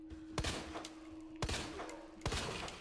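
Three sharp gunshots go off in the Resident Evil 2 Remake as enemies are shot, spaced roughly a second apart, each a loud crack with a short ringing tail over a low game background hum.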